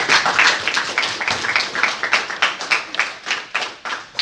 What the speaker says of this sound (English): Let's give High Time AI a round of applause.